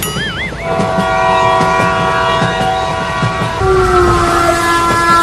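A train passes without stopping, loud and close, with a wavering horn at the start and then sustained horn tones over the rumble and rhythmic clatter of wheels on the rails.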